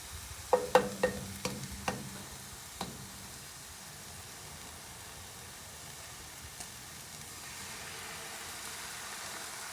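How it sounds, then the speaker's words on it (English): Eggs cracked into a cast iron skillet of breakfast hash, a few sharp taps and clinks up front, then a quiet steady sizzle of frying that builds slightly toward the end. "we're gonna throw in the eggs at this point"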